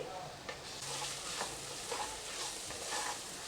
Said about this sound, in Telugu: ఇప్పుడు మనం వేసిన మసాలాలన్నీ బాగా ఫ్రై చేసేసుకోవాలండి